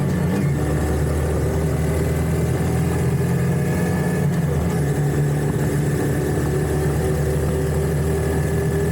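A 2025 Honda Grom motorcycle engine drones steadily near its top speed of about 55 mph, loud and continuous with wind rush, no pauses or gear changes.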